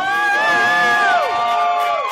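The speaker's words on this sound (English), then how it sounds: "Mr. Davis, give him a round of applause on orchestra" A pageant audience at Miss Syracuse 2013 cheers loudly, with sustained high whoops and shouts over a dense crowd roar for about two seconds.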